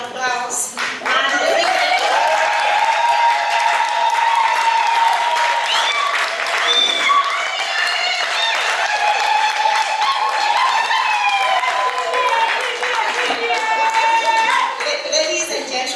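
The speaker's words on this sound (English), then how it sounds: "they deserve a hearty African applause" An audience at a live African cuisine cooking event claps in sustained applause lasting most of the stretch, with voices and tonal sounds carrying over the clapping.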